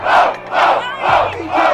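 A crowd at a Brazilian rap battle roars in rhythmic waves, loud and near, swelling and falling about every half second in chanted bursts with no talk over it.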